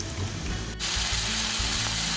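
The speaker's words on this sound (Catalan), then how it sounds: "Una vegada fregida l'albergínia, ja només ens queda" Aubergine frying in a deep fryer, a dense continuous sizzle and bubbling of hot oil that surges louder partway through, close and steady with no talking.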